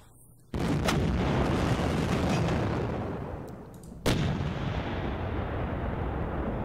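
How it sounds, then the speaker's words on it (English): Heavy artillery fire from the Panzer Campaigns Stalingrad '42 wargame: a loud booming blast starts suddenly, rumbles and slowly fades, then a second sharp blast hits and its rumble sustains. "Being hit by artillery, though."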